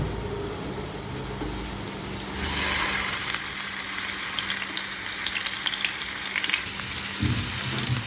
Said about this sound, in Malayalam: അങ്ങനെ നമ്മുടെ എണ്ണ ചൂടായി വന്നു. ഞാനിതിലേക്ക് മീനിട്ട് കൊടുക്കുകയാണ്.